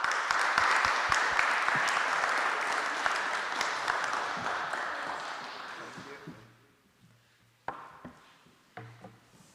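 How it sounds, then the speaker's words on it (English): An audience at a PhD event applauds its panelists with dense, loud clapping that fades out after about six seconds. A few scattered knocks and taps follow in the quieter stretch. "let us give a round of applause to all our panelists"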